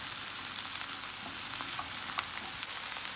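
Okra frying in a pan, a soft, even, continuous sizzle with faint crackles, heard close but quiet and alone with no talking.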